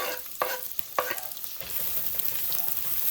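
Oil left over from frying capsicum sizzles in a pan, with a few sharp stirring knocks at the start giving way to a steady close crackling hiss.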